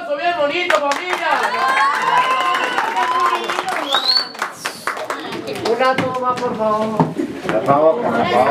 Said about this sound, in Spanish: El aplauso bien bonito, familia.